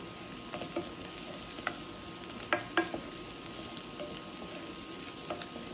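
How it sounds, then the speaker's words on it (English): Fennel and onion frying in oil, a steady soft sizzle with occasional clicks and pops from stirring, no voices. "We're going to add our fennel and onion and cook it down till it's soft and see-through."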